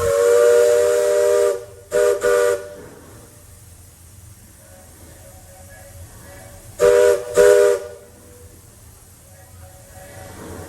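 A Disney steam train whistle sounded in a game of whistle tag, giving one long blast, then two short toots, a quiet stretch, and a final pair of short blasts, with steam hiss and low rumble between them.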